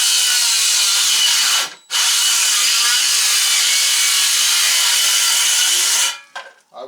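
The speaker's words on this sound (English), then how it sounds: "I was able to bog the saw down, but this saw has a lot of power" A Dewalt DCS391B 6 1/2-inch cordless circular saw screams loudly through wood in a long continuous cut, pausing briefly once before resuming, then winds down at the end.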